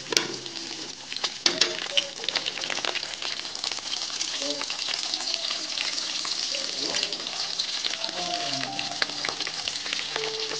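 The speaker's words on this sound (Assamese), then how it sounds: "শুকা মাছটো তো ভালদৰে ফ্ৰাই কৰিব লাগে" Dried fish frying in a pan for a spicy bitter eggplant curry, a steady dense sizzle with scattered crackles and stirring clinks, under intermittent talking and a faint cooing bird in the background.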